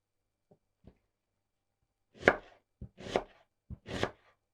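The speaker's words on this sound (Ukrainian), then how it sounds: "нарізаємо цибулю і м'ясо для подальшого обсмажування" Sharp, isolated knife chops through onion against a board, a few faint taps then louder, spaced strikes, close and distinct in a quiet room.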